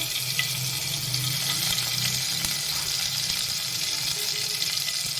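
Ginger, garlic and green chili thecha paste frying in a pan for a spicy mixed sprouted-bean potato curry, a dense steady sizzle that runs loud and close, with faint scraping of stirring and no talk.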